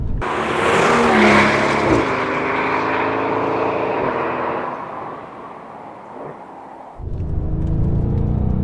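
A Mercedes S65 AMG with a V12 engine accelerates hard, its loud, rising engine roar building and holding for several seconds, then easing off before a fresh deep surge returns near the end.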